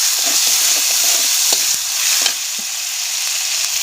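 Salted fish frying in a pan with chilli in a rustic village kitchen, a steady loud sizzle broken by soft scraping stirs and light taps throughout, with no voices.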